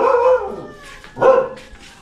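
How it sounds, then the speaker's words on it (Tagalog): A dog barks twice at a house under renovation in Villasis, Pangasinan, two loud close barks with a short pause between them and no talk over them. "Oh, may aso."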